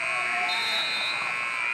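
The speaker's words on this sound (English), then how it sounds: "Buzzer sounds, and Wells will take a 3-1 lead into the sec" A loud, steady electronic buzzer blares continuously for nearly two seconds, ending a college wrestling period, with crowd noise and voices underneath.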